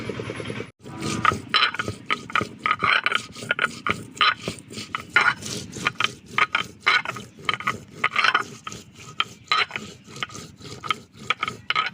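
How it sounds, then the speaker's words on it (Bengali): Fennel seeds are ground into a paste by hand on a grinding stone, making a long run of rhythmic, close scraping and rasping strokes with no talk. "মৌরিটা সুন্দর করে বাটা হয়ে গেছে"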